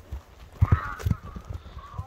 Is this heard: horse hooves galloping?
yes